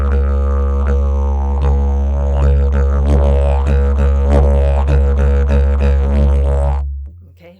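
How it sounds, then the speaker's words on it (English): Didgeridoo playing a deep, continuous drone that moves into the bouncy "Ditty Wa" rhythm, loud and close, with repeated pulsing accents before it fades out at the end. "let's try it through 4 times on the didge"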